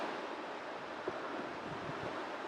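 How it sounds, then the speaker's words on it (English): Ocean surf at Jacksonville Beach, Florida, as a steady, broad wash of breaking waves, with wind rushing against the microphone throughout and no voices. "It's the ocean, bro."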